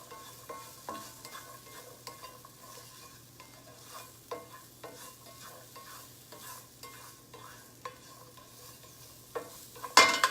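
Chopped onion, about half a cup, frying in a pan, soft sizzle beneath frequent light scraping and tapping stirs, fairly quiet and close, ending in a louder clatter, with no speech.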